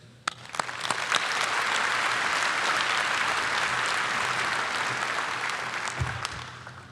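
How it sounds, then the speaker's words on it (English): Sustained applause from a commencement audience honoring top graduates of the College of Health Sciences, a steady even wash of clapping from a large hall that swells and then gradually tapers off. "Please join me in a round of applause to express our appreciation to the top graduates of the summer and fall classes"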